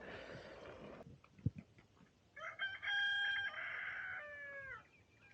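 A rooster crows loudly and close by with a drawn-out, wavering call, preceded by a burst of broadband noise and a few sharp knocks, at a hill village farm in Jamunamarathur.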